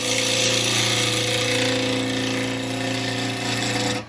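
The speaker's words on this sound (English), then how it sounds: "I'm just going to use my bowl gouge one here." A 3/4 bowl gouge cuts wood spinning on a lathe, a steady, close tonal motor hum with a rough scraping layer that cuts off abruptly at the end.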